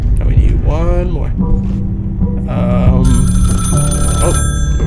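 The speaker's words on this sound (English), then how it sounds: "I got a phone call." Telephone ringing in the video game Ravenous, a steady electronic ring that starts partway through and continues under a voice talking over loud game sound.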